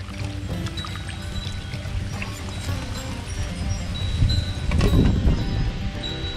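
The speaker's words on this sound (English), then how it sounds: "I've got my scalding pot here. It's about 160 degrees. I'm gonna go ahead and scald this for a few seconds." A quail is dipped and swished in a pot of roughly 160-degree soapy scalding water, producing soft sloshing and gurgling splashes that swell briefly louder near the end, with no talk.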